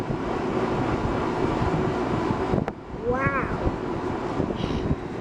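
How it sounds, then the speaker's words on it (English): Wind gusts noisily across the microphone outdoors beside an HVAC unit, a rough, continuous rush with a brief dip, while a person briefly exclaims. "Man, this wind is still blowing this thing."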